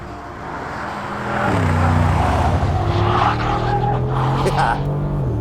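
A new Mercedes G63 G-Wagon drives on a race track, its engine rising in pitch through the gears with a loud, close roar, while someone talks over it.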